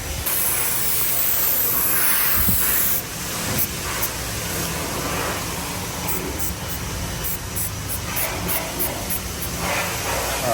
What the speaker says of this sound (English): Aaron just got back and he got us some really good adhesive, spray adhesive for this.